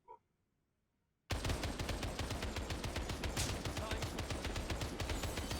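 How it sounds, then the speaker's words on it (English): The Inferno gun in Final Fantasy VII: The First Soldier fires a long, loud stream of rapid, evenly spaced shots that starts abruptly after a brief quiet moment. "We're gonna switch over to the Inferno though, because we want to shoot a lot of bullets."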